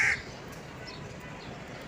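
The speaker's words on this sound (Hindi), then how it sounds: "और इधर हो रही है चील और कब्बे की लड़ाई।" Crows cawing during a fight with a kite near a nest, one brief loud call at the start, then steady outdoor background noise.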